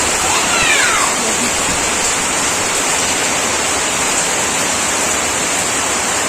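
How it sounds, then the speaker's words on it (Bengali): Heavy rain pours down in a dense, unbroken roar of hiss that stays loud and uniform from start to finish. "দেখো এখানে পড়ছে প্রচুর বৃষ্টি।"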